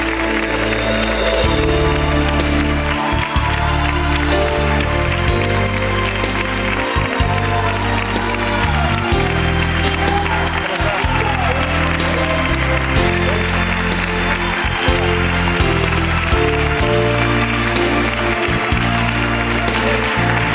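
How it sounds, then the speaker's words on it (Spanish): A television studio audience applauds steadily and loudly for the full twenty seconds, blended with music playing underneath. "Un aplauso para tu primo Eduardo, su hijo."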